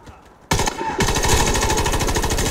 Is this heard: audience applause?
no